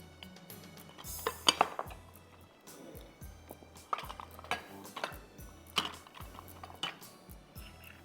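Cake batter for a chocolate banana swirl cake being folded with a metal tablespoon or spatula in a bowl, giving a string of soft scrapes and light metallic clinks against the bowl at an uneven rhythm, close by with no talking.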